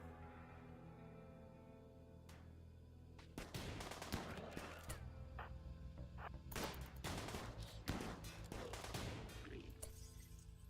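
Bursts of gunfire in the RimWorld video game, rapid cracking volleys and scattered single shots fairly loud over a low hum, intensifying in dense clusters toward the end with a shattering clink among them.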